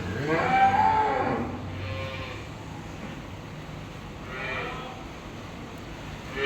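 Dairy cows on a farm let out two drawn-out moos, one near the start and a softer one later, over a quiet barn background.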